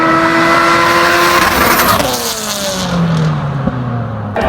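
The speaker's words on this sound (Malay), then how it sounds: "Kereta ni yang akan menjerit kat highway ni." A Kanjo-style car, CVEK or CVEG era, roars past at a retro car event, its loud revving engine rising and then falling in pitch as it passes and fades away.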